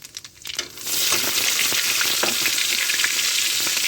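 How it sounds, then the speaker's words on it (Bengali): Onion, garlic, dry red chillies and nigella seeds hit hot oil with a sudden loud sizzle after a second of scattered clinks, then fry in a steady, close, crackling hiss that holds to the end without any voices. "তেল গরম হয়ে গেছে এবার আমি পেঁয়াজ রসুন দেবো"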